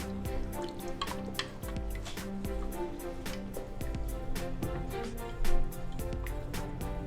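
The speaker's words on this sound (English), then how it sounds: "So I'm gonna take this back to the stove behind me and let the polenta cook." Polenta cooks in a pot on the stove, giving a continuous soft sizzle with frequent small pops and bubbling clicks, close and moderately quiet, with no talking.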